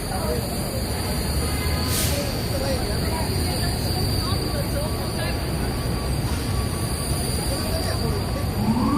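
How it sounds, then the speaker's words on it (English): Subway trains rumble beneath 34th Street Herald Square in New York City on a busy evening, a steady loud underground roar with faint wheel squeals, heard from street level amid crowd noise. "we hear subway down there, as 34th Street Herald Square is a pretty busy subway station all the time"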